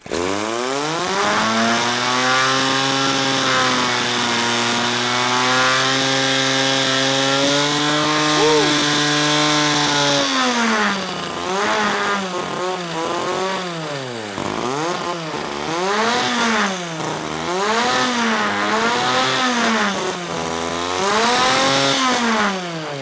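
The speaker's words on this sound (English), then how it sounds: "We successfully mounted and ran the see-through rotary engine." A see-through transparent rotary engine runs loud and close, a buzzing whine that holds steady at first, then revs up and down repeatedly as the throttle is worked, with no speech.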